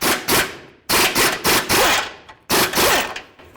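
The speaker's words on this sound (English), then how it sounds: "So now we're going to remove this bolt right here with our 21 millimeter swivel" An impact wrench with a 21 mm swivel socket removing a front control arm bolt on a 2008-2016 Chrysler Town & Country, three loud close bursts of rapid rattling hammering separated by short pauses.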